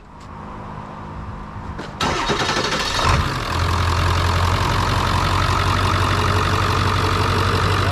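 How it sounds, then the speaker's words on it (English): A 7.3 Power Stroke diesel truck engine cranks and fires up after a fuel filter change, then settles into a steady, loud, close idle with a deep, even rumble and no talking. "You might get a bit of a rough idle maybe, but this one's doing pretty good."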